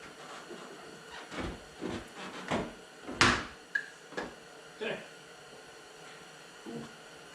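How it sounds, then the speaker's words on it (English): Foxbody Mustang interior door panel being pried off its door, a string of sharp plastic clip pops and snaps spaced over several seconds, close and fairly loud with no speech. "door panel should come right up"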